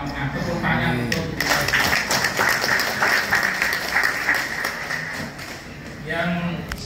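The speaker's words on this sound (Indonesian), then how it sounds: "Tepuk tangan untuk" Audience applause at a scout council (Pramuka Kwartir Cabang Lamongan) gathering: dense, steady clapping that fills the room for several seconds, with a voice speaking over it at the start and again near the end.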